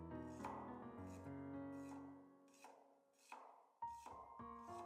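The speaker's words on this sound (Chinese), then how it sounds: "一块生姜先切片，" A knife slicing a piece of fresh ginger on a board gives soft, regularly spaced cutting taps, faint and set under quiet background music.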